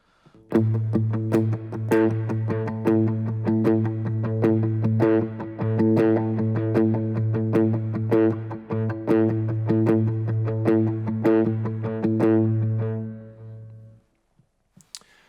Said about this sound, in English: I'm going to throw on a little bit of overdrive and my verb and delay